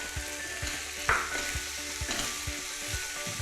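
Egg filling for Thai stuffed omelette being stir-fried in a hot pan: a loud continuous sizzle with rhythmic scraping strokes of a spatula about twice a second, close and without talk.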